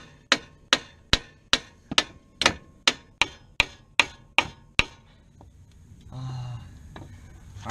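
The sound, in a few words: hammer beating on a car strut to remove it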